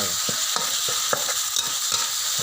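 Ground pork stir-fried in a pan with curry paste: a steady close sizzle of frying with regular scraping strokes of a spatula, several distinct clacks in a loose rhythm, no talking.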